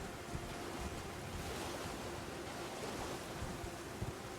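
Rain and wind in the Elden Ring Shadow of the Erdtree expansion, a dense, steady wash of hiss and rushing gusts with no pauses, moderately loud and alone.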